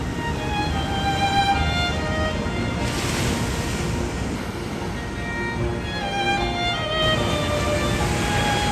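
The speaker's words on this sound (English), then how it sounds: "the powerful waves we're seeing here are crazily beautiful" Powerful ocean surf at Bronte Beach in Sydney at sunrise, a steady loud roar of breaking waves with wind buffeting the microphone throughout and no voices.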